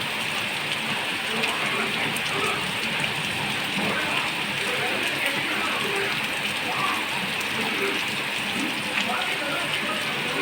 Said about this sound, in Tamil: இது பயங்கரமான மழை